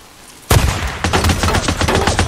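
Machine gun fire in Days Gone, played on PC, with the MG45: a sudden loud burst of rapid shots, then repeated close bursts of automatic fire with no talk.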